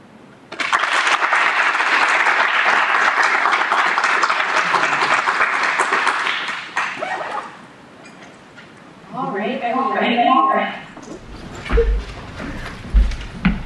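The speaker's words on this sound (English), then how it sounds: "let's get another round of applause for these amazing demos from these teams" An audience at the Policy2Code Demo Day at BenCon 2024 applauds after the demo presentations. Loud, dense clapping lasts about six seconds, then fades, and a person starts speaking.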